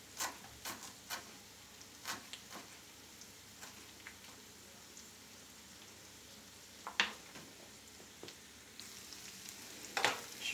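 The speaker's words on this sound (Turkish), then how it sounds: "Hafiften cevizlerinin kıtırdaması gerekiyor şöyle" Soft crackling and popping from walnuts toasting in a hot pan, with scattered sharp ticks over a quiet background hiss.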